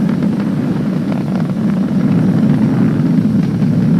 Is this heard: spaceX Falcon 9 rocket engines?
yes